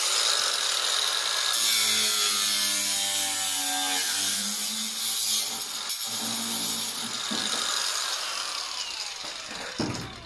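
Power tool grinding and cutting away metal on the underside of a Ford Transit during repair, a loud harsh continuous whine with rough scraping and chattering, close up and without talk.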